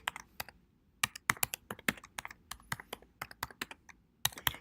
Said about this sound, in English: We'll just type that again.